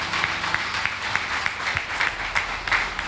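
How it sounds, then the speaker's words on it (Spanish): Church congregation applauds the Lord with a dense, even patter of clapping at moderate volume, sustained throughout without speech. "Den un aplauso al Señor."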